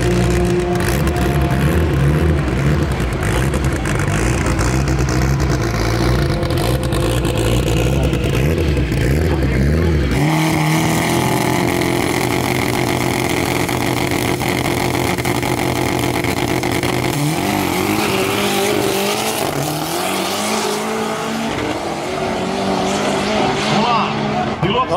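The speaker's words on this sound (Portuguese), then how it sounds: "Chevette Tubarão Preto na pista." A turbocharged Chevrolet Chevette, the Tubarão Preto, runs on a race track with a loud, continuous engine roar that shifts pitch as it accelerates and reverses. Tire noise rises toward the end, and voices talk over it throughout.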